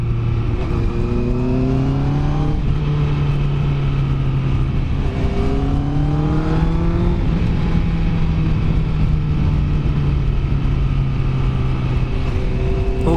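A Honda CBR650 motorcycle exhaust revs up and down repeatedly, rising and falling in pitch with a continuous rough rumble, loud and close, heard from the exhaust tip.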